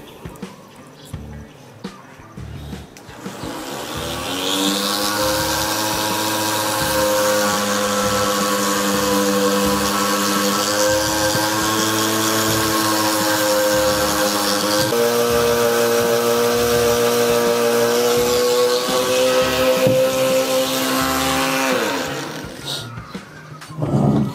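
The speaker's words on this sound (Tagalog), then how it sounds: "ngayon ililiha ko siya gamit itong die grinder natin" Die grinder sanding and smoothing Yamaha RXT135 motorcycle crankshaft parts, a loud continuous high-pitched whine that spins up after a few seconds, holds for most of the clip with small pitch shifts, then winds down.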